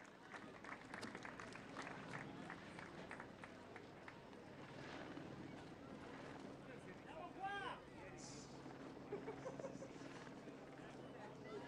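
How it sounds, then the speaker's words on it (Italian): Scattered clapping from a crowd at an outdoor cycling podium ceremony in Peccioli, steady and moderate, with a general murmur of people and a public-address voice underneath. "Applausi a Eiking."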